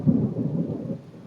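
Low rolling thunder from an evening storm, a deep rumble that swells at the start and fades over about a second, with no voices.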